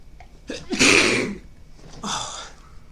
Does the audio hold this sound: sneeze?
yes